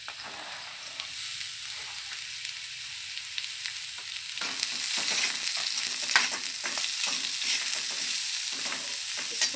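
Carrots and beans sautéing with onions in a pan, with a continuous frying crackle and scattered stirring scrapes that grow louder partway through, no talking.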